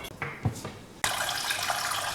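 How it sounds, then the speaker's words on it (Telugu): Water is poured into a spare bowl at home for boiling eggs. A few soft clinks come first, then a sudden, steady, fairly close gush of running water. "ఫస్ట్ ఒక ఎక్స్ట్రా బౌల్లో వాటర్ తీసుకుంటా"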